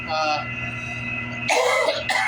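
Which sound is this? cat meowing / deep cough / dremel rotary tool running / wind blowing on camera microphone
deep cough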